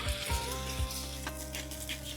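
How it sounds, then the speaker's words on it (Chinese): Beaten duck eggs hit a hot pan for scrambling, giving a short burst of close, moderate sizzling with a few soft spatula strokes. "鸭蛋下锅炒"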